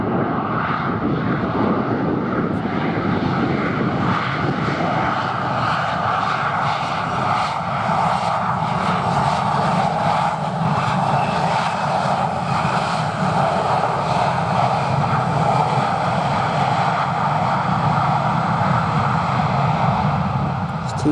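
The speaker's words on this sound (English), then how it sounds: "So now we have a Dassault Falcon 2000 LX. This one is coming from Istanbul." Dassault Falcon 2000LX private jet at London Luton airport on a windy afternoon, a loud, steady engine roar held for about twenty seconds with broad rushing noise and no talk over it.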